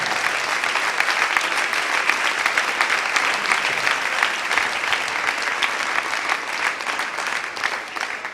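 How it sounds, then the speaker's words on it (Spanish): Church congregation applauding during a sermon by Pastor Jorge Garcia, steady, full clapping from many hands that holds evenly and fairly loud from start to finish with no talk. "Dele ese aplauso al Señor"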